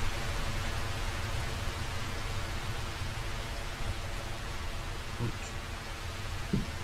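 Steady rain falling at night in the video game Red Dead Redemption 2, a continuous even hiss throughout with a couple of faint thuds near the end, no talking.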